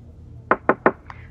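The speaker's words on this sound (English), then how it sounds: "She'll knock before she comes in." Three quick, evenly spaced knocks on a door in a clinic, close and crisp, followed by a fainter fourth tap.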